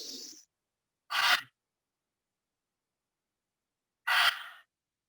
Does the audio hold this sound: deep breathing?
yes